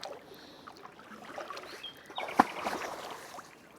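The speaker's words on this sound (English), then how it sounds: "A very big splash." A sudden big splash in the Ardèche river breaks a quiet outdoor ambience, one sharp burst followed by brief rippling.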